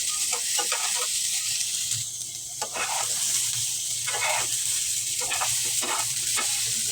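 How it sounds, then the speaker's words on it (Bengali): Sliced radish fries in a pan of hot oil with a steady, bright sizzle, broken by intermittent scraping and stirring strokes close by, with no voices. "মূলা ভাজা হয়ে গেছে।"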